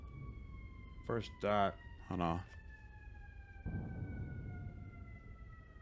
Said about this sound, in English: There's a siren right outside my window.